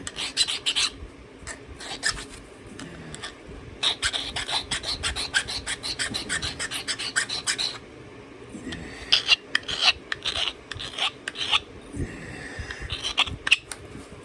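A metal file rasps back and forth across a small copper piece for a pine tree craft, in quick bursts of scraping strokes with short pauses between them. No one speaks.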